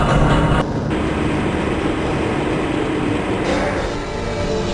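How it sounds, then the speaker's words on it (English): A Black Mesa transit train in Half-Life: Blue Shift rumbles and hums steadily as it rides along its track, a constant loud rolling drone with slight shifts in tone. "This train is inbound from the Area 8 topside dormitories to the Central Transit Hub in Area 9"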